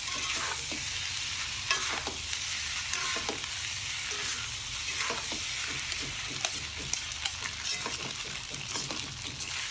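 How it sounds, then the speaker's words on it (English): Rice and green onions stirred in a hot sizzling pan, a steady loud fry hiss under repeated scraping stirs of the spatula, close and continuous with no voices. "Give it a nice mix"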